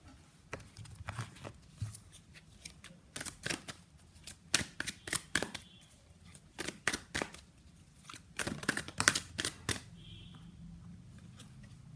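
A deck of tarot cards riffled and shuffled at close range, sharp papery bursts coming in irregular clusters, with cards being drawn and set down between them, quiet with no talking.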